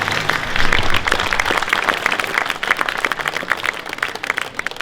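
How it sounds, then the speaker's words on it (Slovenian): Spectators at a Montenegrin culture summer event in Kranj give a warm round of clapping, a busy, crackling wash of many hands that swells early and holds steadily before easing slightly. "Dajmo in tak spontan aplavz navdušenja ob takem pomembnem in lepem dogodku."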